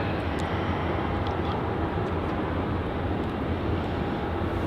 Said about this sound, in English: exiting off of runway 34 onto taxiway Foxtrot. The All Blacks 777, an awesome catch to have here at Melbourne